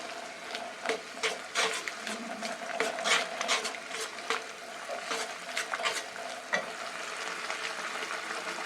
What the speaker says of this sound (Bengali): দিয়ে আস্তে আস্তে নাড়তে থাকবে নতবা কিন্তু টক দই জমে যাবে